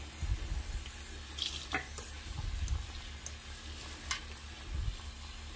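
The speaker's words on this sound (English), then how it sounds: "Gonna rinse it out." Tap water runs and splashes as conditioner is rinsed out of a synthetic half wig in a sink, with an uneven spatter that rises and falls under handling.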